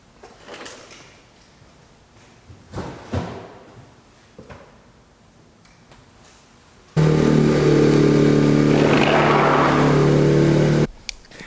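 A Honda Civic Si fitted with Type R style side skirt extensions is lowered to the ground: a few soft clunks, then a loud, steady mechanical hum that holds for about four seconds and cuts off abruptly. No one speaks.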